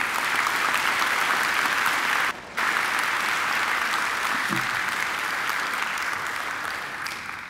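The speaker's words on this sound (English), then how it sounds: "I think she deserves another great round of applause" An audience at a Macquarie University graduation ceremony gives a singer a dense, steady round of clapping that continues throughout, with one brief dip before it resumes and slowly tapers.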